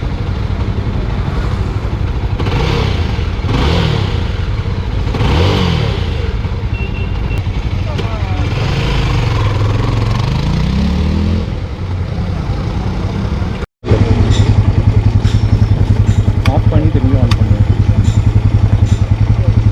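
Yezdi Scrambler motorcycle with a sensor problem, its engine running at a high idle with a steady, loud, close rumble throughout, a short dropout partway, and people talking over it.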